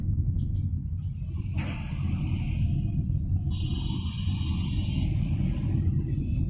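A Tata Tiago CNG car driven gently at low RPM gives a steady low engine rumble and road drone throughout, with no speech in the cabin.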